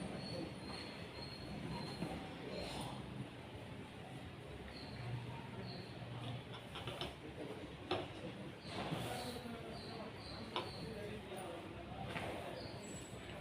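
A sewing machine joins the sleeves onto a blouse, producing a steady whirring, rattling drone that runs throughout with a few brief louder bursts and clicks, quite close and continuous.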